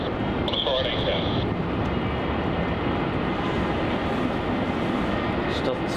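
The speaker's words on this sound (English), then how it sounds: "This is Virgin Australia flight VA677 off to Perth." A Virgin Australia jet airliner takes off for Perth from Melbourne Airport with a loud, sustained broadband engine roar, steady throughout, while people talk faintly over it.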